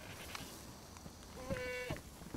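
A goat bleats once in the DayZ video game, a short wavering cry in the middle of faint game ambience, with no talk over it.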